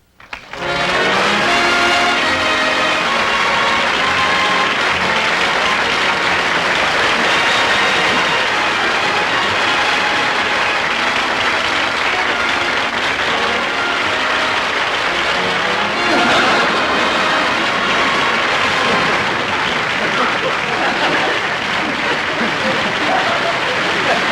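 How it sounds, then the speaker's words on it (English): A studio audience gives Jack Benny a loud, sustained ovation that rolls on for over twenty seconds, dense and steady, with tonal music faintly running underneath. "at him milk that applause."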